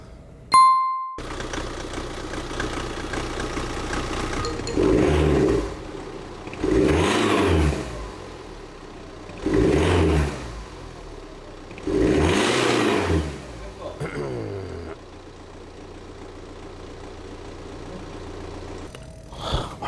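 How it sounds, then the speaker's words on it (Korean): BMW 118d engine running with a noisy alternator, idling steadily between four loud revs that rise and fall, with a ding at the start and the whine carrying under the idle. "발전기 약간 소리 나는 것 같지?"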